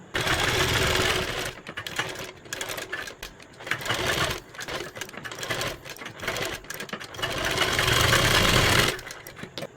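A sewing machine stitching along sleeve piping runs in several bursts of rapid, even mechanical whirring, with short pauses between runs. It is close and fairly loud, with no speech.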